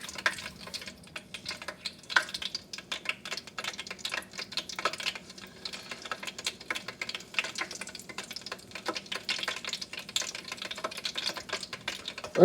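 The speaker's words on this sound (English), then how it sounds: "See guys, the french fries are cooking." French fries cooking in a closed deep fryer give off a steady, moderately faint crackle of dense, irregular pops and bubbling that runs the whole time with no talking.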